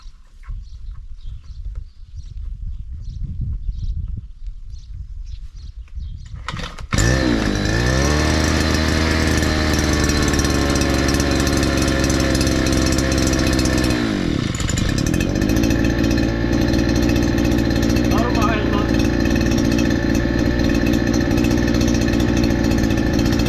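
A petrol brush cutter is pulled to life after a few quiet seconds of faint handling, then roars loudly and steadily at close range, its pitch dipping briefly midway before settling back to a constant drone.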